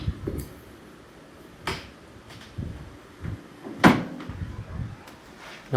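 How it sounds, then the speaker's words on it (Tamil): Irregular knocks or thumps on a door, several scattered sharp hits with one louder strike near the middle, heard against a quiet indoor room with no talking. "இந்த டோரை தான் தட்டுற மாதிரி சவுண்டு கேட்குது போல்"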